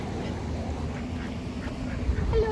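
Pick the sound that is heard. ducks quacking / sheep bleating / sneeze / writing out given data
ducks quacking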